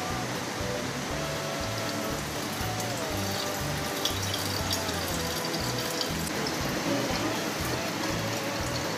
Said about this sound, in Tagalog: first step, let's kukuha muna tayo ng tubig.